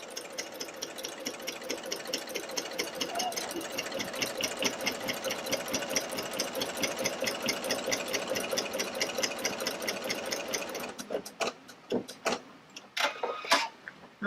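A Pfaff Creative Icon 2 sewing machine stitches a basting run in a fast, steady mechanical rhythm, then stops, leaving a few sharp clicks and taps from the machine.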